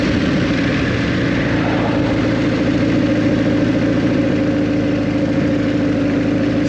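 Steady, close engine note from a Kawasaki GPZ 1100 motorcycle running at a low, even throttle during a ride, a continuous drone with no voices over it.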